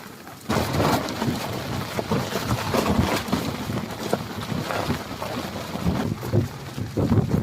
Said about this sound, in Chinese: 帐篷都要吹垮了，那么大风，帐篷都要倒了。